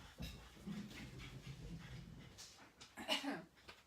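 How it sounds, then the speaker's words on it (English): Excited puppies whimper and pant up close, with quick breathing, soft whines and a few high yips toward the end. "that's my puppies, and they're so excited"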